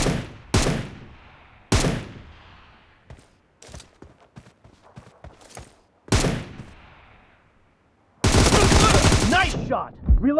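Gunfire in a team deathmatch video game, several sharp single shots echoing with decaying tails, a scatter of quieter pops, then a sustained loud burst of rapid automatic fire near the end.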